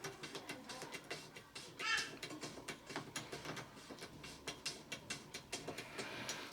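Lindam Easy Fit safety gate being tightened, giving a continuous run of quiet, rapid ratcheting clicks and mechanical creaks throughout, close by.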